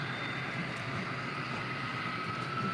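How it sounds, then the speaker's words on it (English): A steady mechanical engine drone with a whining tone, continuous and fairly loud throughout, from a model locomotive revving as it moves on an HO or N scale layout. "the engine revs as it moves as well"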